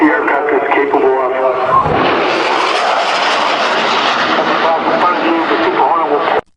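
An F/A-18 Super Hornet fighter jet flies low overhead, a loud roaring jet engine that swells and sweeps past in a sustained broadband rush before cutting off abruptly; a voice talks under it.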